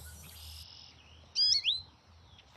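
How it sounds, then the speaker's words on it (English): A recorded goldfinch song plays back as two bright, twittering chirp bursts near the middle, clear and close above a quiet background hiss, with no talk. "Okay, play the goldfinch."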